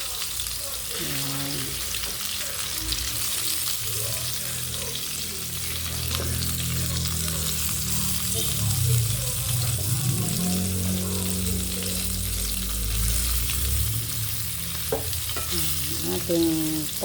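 Pork meatballs (bola-bola) frying in oil, a steady low sizzle running throughout with occasional stirring and a short word spoken over it.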